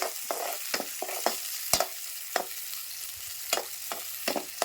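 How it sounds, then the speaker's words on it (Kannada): Onions being stirred as they fry in hot oil, heard as a soft steady sizzle cut by about a dozen sharp, evenly spaced scrapes of a spatula against the pan, no talking. "ಉಳ್ಳಾಗಡ್ಡಿ ಈಗ ಉಳ್ಳಾಗಡ್ಡಿ ತಿರುಗಬೇಕ್ರಿ"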